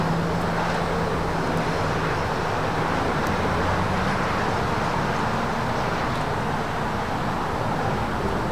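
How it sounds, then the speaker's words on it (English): An Air France Boeing 777-300ER airliner arrives at LAX, a steady broad roar of jet noise heard from a distance that stays at an even level throughout. "Next arrival here on the south side, Air France 777-300ER."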